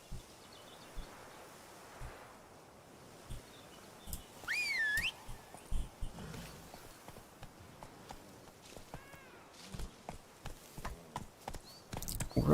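Soft hoofbeats of the horse Roach in The Witcher 3, a quiet, uneven clip-clop of walking steps with rustling and a brief whistle-like tone, faint and alone.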